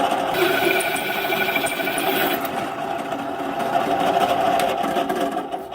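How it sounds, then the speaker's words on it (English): A power drill whines steadily as a thin-metal hole saw grinds into metal on a logging trailer, a continuous buzzing cut heard up close with no speech. "thin metal hole saw that I picked up at Menards, and that's how I'm drilling these holes here"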